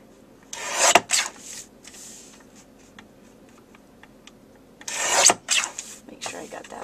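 Paper being trimmed for a calendar-page card mat, with two short bursts of rasping cuts near the start and again near the end, separated by quiet handling noises.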